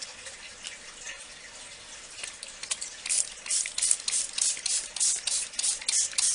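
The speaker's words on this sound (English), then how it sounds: "I'm going to give this a squirt with the water." A hand spray bottle squirts water onto a resin carousel pony, first a few scattered hisses, then a quick run of sharp, regular spritzes close to the mic with no talking.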